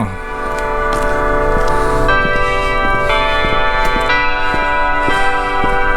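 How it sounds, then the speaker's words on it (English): A church bell rings in a small bell tower in Julian, a historic former Gold Rush town, its steady sustained tones overlaid by regular, evenly spaced strokes. "They actually have a little church and a bell tower."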